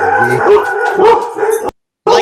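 Several dogs bark and howl together loudly at close range in a dense burst that cuts off abruptly, then resumes briefly after a short silence.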